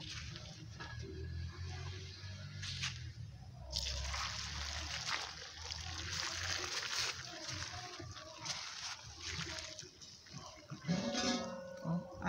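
Hot water poured over hot chili peppers in a home kitchen, soft trickling and sloshing close by, mixed with faint handling clatter and a quiet voice talking now and then.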